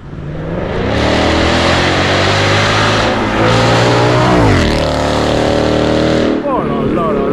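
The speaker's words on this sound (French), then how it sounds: "Écoutez ce V8, franchement." A Ford Mustang V8 revs loud and close, its deep rising and falling engine note sustained with a brief dip near the end, as excited voices talk over it.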